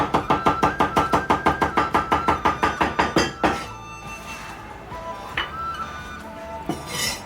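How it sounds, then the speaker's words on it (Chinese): A knife chops pickled chillies finely on a board for a Chongqing-style crucian carp dish: a quick, even run of about fourteen sharp thuds, then a few scattered knocks and clinks as the chopping stops. "泡椒准备少许，用刀切碎，"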